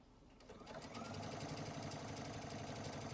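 A sewing machine runs steadily with its thread caught around the presser foot area, a continuous close whirring motor with a fine rhythmic stitching chatter, starting after a brief quieter lead-in.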